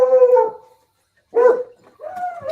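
Beagles howl in long, drawn-out bursts: one sustained howl, a pause of near silence, then a shorter yelp and another rising howl, all close and fairly loud with no talking.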